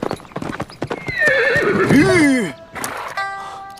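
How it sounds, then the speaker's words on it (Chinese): Rhythmic hoofbeats clop close by, with a loud horse whinny rising and falling midway, followed by more distant neighing and hooves. "我听到马蹄声了。"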